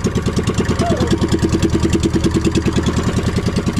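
Boat engine running close by with a rapid, steady chugging pulse, loud and even throughout, with a brief voice faintly audible under it.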